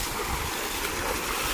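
Water pours down a waterfall as a steady, dense rushing roar, loud and close, with no break throughout.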